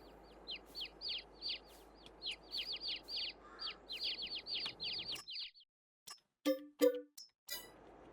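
Chickens cluck and chirp in a rapid run of short calls inside Farming Simulator 22, a busy flock close by. Louder squawks and clucks break in near the end after a brief pause.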